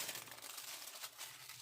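Tissue paper crinkles and rustles as it is handled for homemade book cloth, a soft, close, continuous crackle with no voices.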